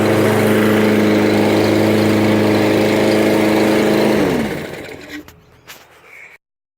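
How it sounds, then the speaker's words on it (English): A Toro Recycler 22-inch lawn mower runs at a loud, steady drone up close, then its engine winds down and cuts out, leaving a few faint knocks before silence. "This will be me starting up the Toro Recycler 22-inch mower from Home Depot."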